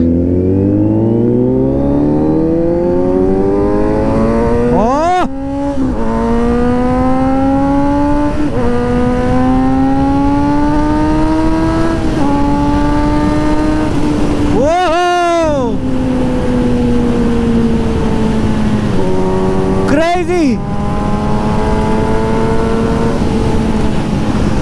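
Kawasaki ZX6R sport bike with custom exhaust accelerating hard through the gears on a group ride, a loud rising engine whine cut by sharp shifts, with rushing wind and other passing bikes.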